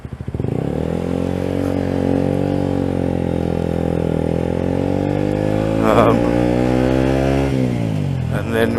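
A 125cc motorcycle engine hums steadily and loudly while being ridden, a near, continuous drone that shifts pitch slightly near the end as the throttle changes.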